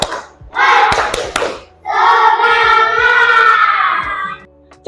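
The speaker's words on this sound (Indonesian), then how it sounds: "Agar lebih semangat, kita tepuk semangat dulu." A class of children in an Indonesian primary school lesson does a rhythmic spirit clap: a quick burst of sharp, patterned claps, then the children's voices chant together in a loud, sustained unison.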